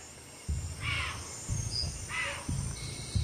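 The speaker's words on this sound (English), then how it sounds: "Deer alarms sound in the distance." Repeated harsh calls ring out a few times at a distance over a low rumbling background and insect-like buzzing.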